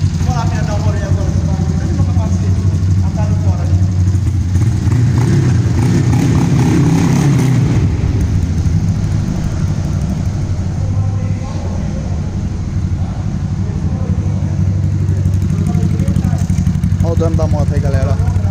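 A Honda Titan 150 motorcycle bored out to 202cc, fuel-injected and tuned for ethanol, revs loudly and steadily up close, its engine note rising and falling over a continuous rumble, with someone talking over it.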